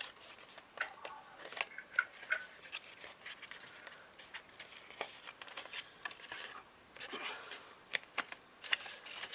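Paper is folded and creased by hand while making a craft Christmas tree, giving soft close rustling and crinkling with small sharp creases scattered throughout, fairly quiet and with no talk.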